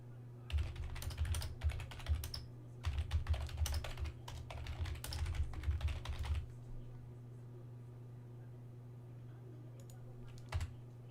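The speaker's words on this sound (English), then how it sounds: "typing out something real quick" Rapid clattering on a computer keyboard comes in several bursts over the first six seconds, close and fairly quiet over a steady hum, then a few isolated keystrokes after a pause.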